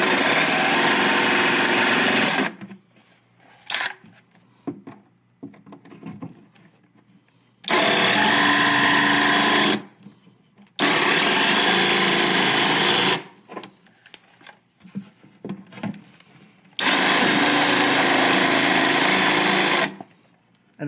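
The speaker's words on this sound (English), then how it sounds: "now you can come and take the jigsaw and cut out what you need to" A jigsaw cutting wood while carving rear legs: loud, close bursts of buzzing reciprocating blade noise, about four runs of two to three seconds each, separated by quieter handling and shuffling sounds.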